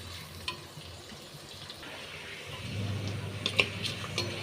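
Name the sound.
onion being sautéed in a pan until golden brown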